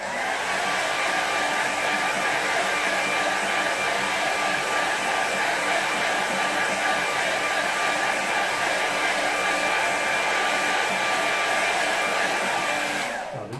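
A hair dryer runs steadily at close range, drying a wet watercolour painting of a forest river, a constant loud whoosh that cuts off at the very end.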